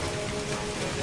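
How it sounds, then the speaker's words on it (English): Heavy rain pours steadily with gusting wind in northern Nova Scotia, a dense, loud, unbroken hiss with no voices. "the water and the wind are so ferocious at the moment"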